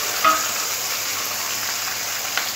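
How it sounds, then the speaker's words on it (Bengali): Pabda fish rubbed with salt, turmeric and mustard oil fry in hot mustard oil with a loud, even, close sizzle that holds steady throughout, broken by a couple of faint pops. "এবার পাবদা মাছগুলো তেলের মধ্যে দিয়ে একটু হালকা করে ভেজে নেব।"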